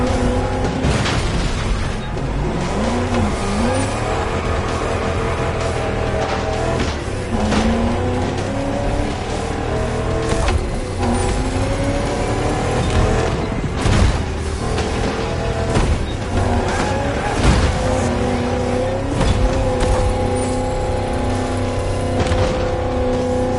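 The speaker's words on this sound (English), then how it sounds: "We got you a 67 Shelby GT500, also named Shelby Cobra, a 2-door coupe based on the Ford Mustang Fastback." A 1967 Shelby GT500, a two-door Ford Mustang Fastback-based coupe, driving in the racing game The Crew Motorfest: a loud, sustained engine roar that rises and falls through repeated revs and gear changes, with occasional tire squeal and thumps.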